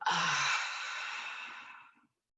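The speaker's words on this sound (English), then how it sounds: "Last one, let's make this the biggest inhale yet. Fill up, fill up, fill up all the way. And exhale it out." One deep exhale during yoga breathing in a vinyasa flow class, a single close, breathy sigh that starts strong and fades away over about two seconds, heard alone.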